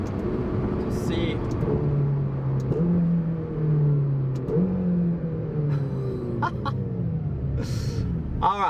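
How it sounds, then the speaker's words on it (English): A McLaren GT pulled away at full throttle from first gear, its engine note climbing in pitch through rising sweeps as it accelerates, heard from inside the cabin with a person speaking over it. "first gear in, let's floor it."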